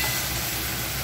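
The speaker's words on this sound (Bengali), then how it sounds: "আমি এই যে মশলা দিয়ে এবারে কষাচ্ছি" Potatoes and carrots, already fried, being sautéed with spices in a pan for a home meal make a steady close sizzle and stir, filling the short moment with dense frying noise and no talk.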